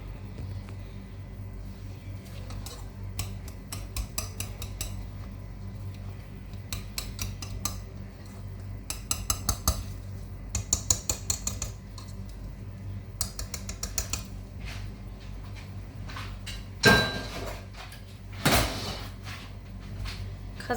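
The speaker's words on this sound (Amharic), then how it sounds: "ድንቹን አደቀዋለሁ አሁን" Utensils mash boiled potatoes in a bowl, making irregular clinks, taps and scrapes at close range, with a couple of heavier knocks near the end and a low background rumble.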